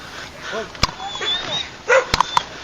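A dog barks and yips in short, sharp bursts close by, mixed with whimpering and surrounded by tense background voices.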